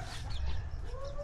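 Native backyard chickens of a gray line cluck in a short, steady burst, fairly close, with a low rumble of background noise beneath them.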